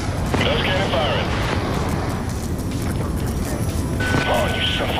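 Cannon fire from an aircraft in the Call of Duty Black Ops 2 campaign: a loud, dense, continuous roar of rapid blasts and engine rumble filling the whole moment, with radio-style voices talking underneath.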